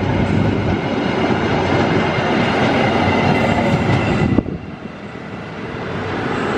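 The Argo Sindoro executive passenger train rumbles past on double-double tracks, a steady broad roar with faint rhythmic wheel clatter, close and loud, dipping briefly near the end.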